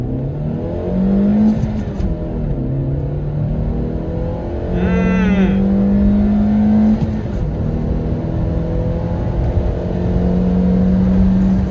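A Peugeot with 150,000 km on it accelerates hard from 0 to 100 km/h, the engine note climbing steadily through the gears with brief dips at the shifts, loud and continuous from inside the cabin.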